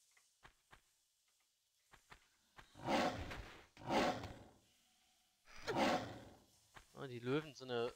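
Lions roar in the Greek cistern level of Tomb Raider I Remastered, giving three loud, drawn-out roars in a row between sparse thuds and clicks, followed by a short burst of rapid growling.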